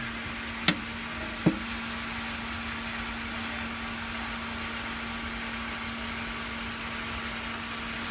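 A saltwater pool chlorinator is switched on: two sharp clicks in the first second and a half, then a steady, fairly quiet electrical hum with a faint mechanical whir that continues alone to the end.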